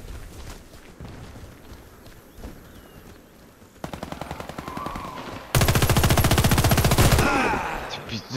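Automatic gunfire in the online shooter Warface starts as faint distant shots, then two close bursts of rapid machine-gun fire ring out, the second louder and sustained, with no speech over it.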